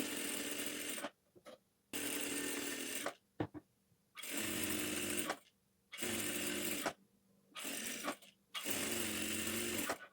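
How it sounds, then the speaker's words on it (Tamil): A sewing machine stitches a blouse sleeve together with its lining in several bursts of steady whirring, each lasting about a second or more, separated by short silent pauses, close and clear. "லைனிங் மெட்டீரியலையும் ப்ளவுஸ் மெட்டீரியலையும் வச்சு அப்படியே சுற்றியுமே நீங்கள் தையல் போட்டுக்குங்க"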